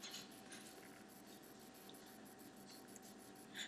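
Pen drawing a rectangle by hand on paper, soft continuous scratching strokes with small pauses, quiet and close.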